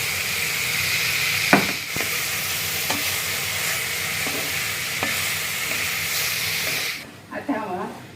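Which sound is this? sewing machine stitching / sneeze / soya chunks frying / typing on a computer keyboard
soya chunks frying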